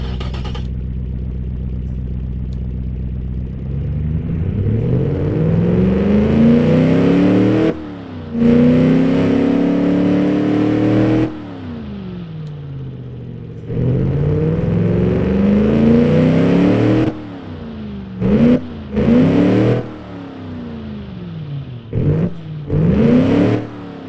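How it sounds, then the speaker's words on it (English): A Chrysler LA 318 V8 hot rod engine with new tubular headers revs repeatedly through its exhaust, loud and close, with rising and falling blips and sustained high revs, then a string of short sharp throttle stabs near the end. "let's hear our new exhaust"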